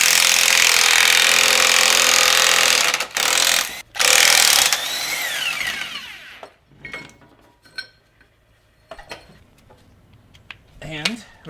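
Power cutting tool grinding through the metal around an E46 subframe bushing, a loud harsh whine for several seconds with brief interruptions, then quieter clinks and scraping.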